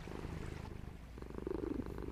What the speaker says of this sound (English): Oh boy, another purr.